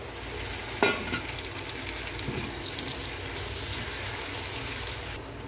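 Tomatoes go into a pan of onions sautéing in oil for pork binagoongan, setting off a sharp clatter and then a steady, close sizzle.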